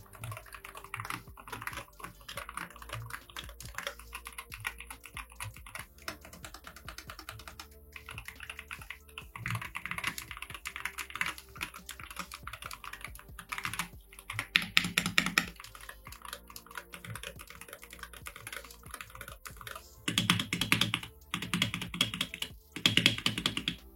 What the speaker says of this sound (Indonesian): Sekarang kita bakal tes suaranya ketika ngetik.